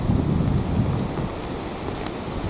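Rain and gusting wind beating on a tent during a long cycling tour, a loud, dense rushing noise with heavy low buffeting throughout.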